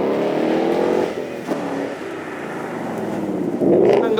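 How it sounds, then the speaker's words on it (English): A Mountune-tuned Ford Mustang accelerates away at a supercar event, its engine note rising steadily and loud, briefly dipping at a gear change before climbing again. "Coming up there next, we have our Ford Mustang, this one tuned by Mountune. Away we go."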